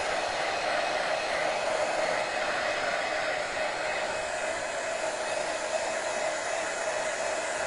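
A hair dryer blows steadily and close up, drying paint on a handmade gift book, with an even, unbroken whoosh and no pauses throughout.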